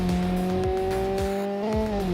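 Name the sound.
racing car launching with dual-clutch transmission, video game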